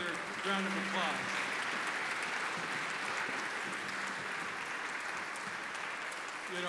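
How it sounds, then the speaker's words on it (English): Audience applause for a children's Christmas chorus, a steady, fairly distant wash of clapping that lasts throughout, with brief voices talking under it. "let's hear you another round of applause"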